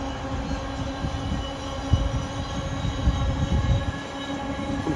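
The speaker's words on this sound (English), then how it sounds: "Freight train there, going past the dog field." A freight train rumbles steadily past a field at moderate distance, its wagons producing a continuous low clatter and hum with a few louder knocks and clanks, heard alone without talking.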